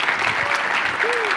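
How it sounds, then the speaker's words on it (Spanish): An audience at a talk bursts into steady applause to welcome a speaker, a short, dense clapping burst that stays loud throughout. "le damos una bienvenida a Sheila Berti con un fuerte aplauso."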